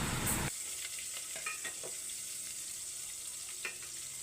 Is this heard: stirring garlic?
yes